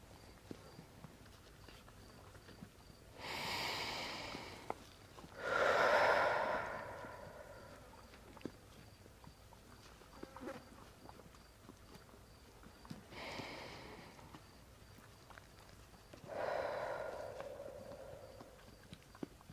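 A person standing near a horse takes slow, deep breaths. Four long breaths come at spaced intervals over a quiet background with faint shuffling and small knocks.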